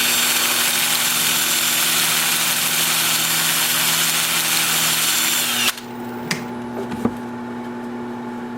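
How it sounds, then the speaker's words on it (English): A wood lathe spins in reverse while sandpaper is held against the turning wood, giving a loud, steady whirring hiss. It cuts off abruptly partway through, leaving a quieter motor hum with a few faint knocks. "So I'll reverse the lathe and sand on this side."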